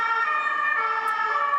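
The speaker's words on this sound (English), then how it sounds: "I'm gonna let the ambulance go by." An ambulance siren wails close by in a steady, strident tone with a faint engine rumble beneath it, carrying on for the whole short moment.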